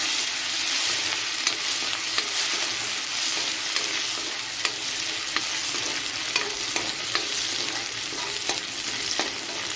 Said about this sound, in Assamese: আৰু এতিয়া পিচি থোৱা আদা নহৰু দি দিম